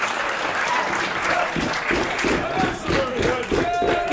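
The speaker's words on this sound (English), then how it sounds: "Giving Lulu a bit of a clap there, saying, well done for a kick out" A small wrestling crowd applauds a kick out during a women's match, steady clapping filling the room at moderate distance.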